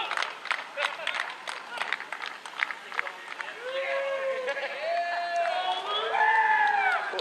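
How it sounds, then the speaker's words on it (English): The crowd at Stafford Speedway cheers wildly after an SK Light feature race win. Scattered clapping gives way to swelling cheers and high whoops, with a crowd roar building steadily toward the end. "to say the crowd goes wild is an understatement"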